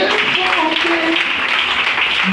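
A church congregation applauding, a dense wash of many hands clapping steadily with voices and cheering mixed in.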